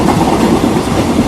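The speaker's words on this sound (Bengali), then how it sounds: "ট্রেন আগের মতোই প্রচন্ড গতিতে ছুটে চলেছে" A train runs at high speed with a steady, loud roar and rhythmic clickety-clack of wheels over rail joints, heard from inside a carriage.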